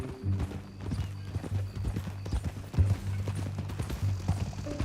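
Horse hooves clip-clopping at a steady walking rhythm in Red Dead Redemption 2, close and continuous across a Western-style game scene, with a faint whinny and low background tones beneath.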